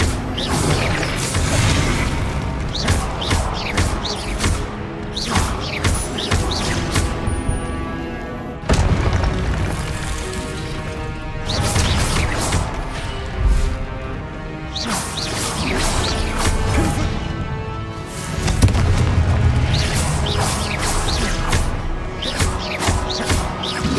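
Confringo blasting spell explosions in a Harry Potter video game, a string of loud booming crashes and whooshes that keep coming for the whole stretch, dense and near, with almost no pauses.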